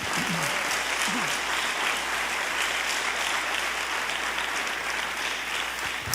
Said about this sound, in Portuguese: Você pode aplaudir ao Senhor Jesus?